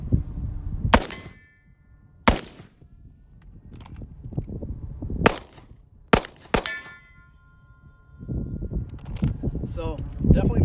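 Sharp shots ring out one at a time at an outdoor target practice, five loud reports spaced a second or two apart, each followed by a short metallic ring as of steel targets being struck, with wind and quiet background.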